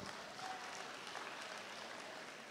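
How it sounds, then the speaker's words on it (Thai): An audience at an evening church camp sermon applauds Bird and Kai with a faint, steady, continuous patter of many hands clapping, distant and even throughout. "ปรบมือให้เบิร์ดกับไก่ด้วยนะฮะ"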